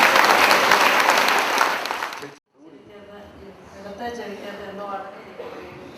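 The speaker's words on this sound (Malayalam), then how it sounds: "കൈയടിച്ച നന്ദി പറഞ്ഞു" Loud applause from a church congregation during a healing prayer service, dense clapping for about two seconds that cuts off abruptly, followed by quieter room murmur and talk.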